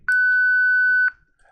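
Electronic beep from a face-recognition assistive device: one clean, steady tone lasting about a second, loud and close, then quiet.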